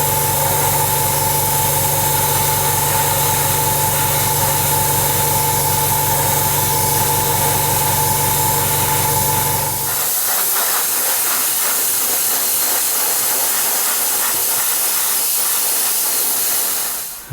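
Close, steady aerosol hiss of black spray paint misted in a gentle coat over grey-primed parts of an Airfix 1/48 de Havilland Chipmunk T.10 model kit, running continuously for about ten seconds before stopping, leaving quieter background noise.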